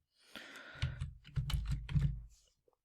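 Keys clatter on a computer keyboard in a quick burst of close, crisp taps, ending with a firmer press of the enter key, in an otherwise quiet room.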